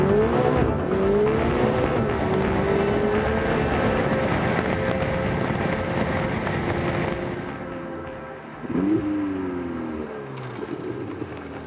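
A Ferrari 488 GTB engine roars loud and close, its pitch climbing and then dropping sharply at near-instant gear changes, with a brief lull before it revs hard again.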